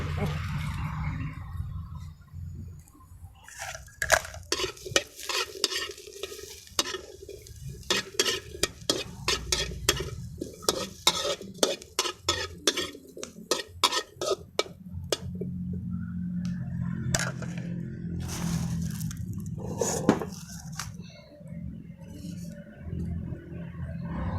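Eggplant chili dip ingredients dry-roasted in a pan outdoors, with steady scraping and stirring strokes in a quick repeating rhythm over a low crackle, close and fairly loud; someone speaks briefly near the end.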